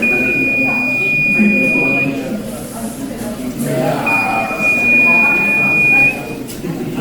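A machine alarm buzzer set off by a vacuum sensor error gives two steady, high-pitched tones, each about two seconds long, under someone talking in a hall with background noise.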